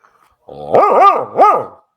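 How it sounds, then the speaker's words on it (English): A dog barking: two loud, close, drawn-out howling barks in quick succession, rising and falling in pitch, standing alone against silence. "You mean a bark?"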